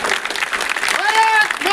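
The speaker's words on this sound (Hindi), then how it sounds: "तालियां इतनी हल्की नहीं होनी चाहिए" Applause from a crowd gathered to honour soldiers returning from training, a dense patter of clapping with a voice calling out over it and a sustained tone rising near the end.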